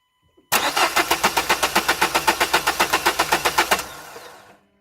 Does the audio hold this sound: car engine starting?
yes